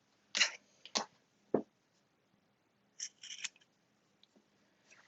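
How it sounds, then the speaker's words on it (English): Scissors trimming the fabric seam allowance of a sewn laptop bag to an eighth of an inch, a few sharp close snips spaced apart, then a quick cluster of softer cuts, in a quiet room with no talking. "I'm just going to trim that seam allowance to 1/8 of an inch."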